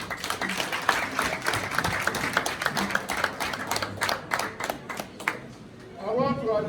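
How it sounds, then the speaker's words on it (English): A crowd applauds at a gathering for a visiting Lagos State entourage, a dense wash of hand claps running steadily throughout and thinning near the end as a voice starts speaking. "Please, a round of applause for them."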